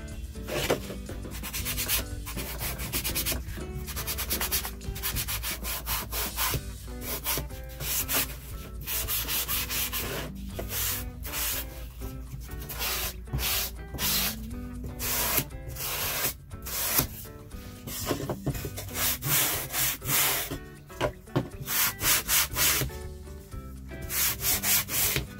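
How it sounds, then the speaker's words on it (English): Rhythmic hand sanding on wood, a coarse back-and-forth rasp repeating steadily and close up, with no talking. "I'm sanding mine right now."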